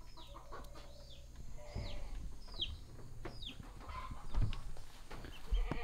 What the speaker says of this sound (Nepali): हाम्रो उता कुखुरा कराइरहेछ।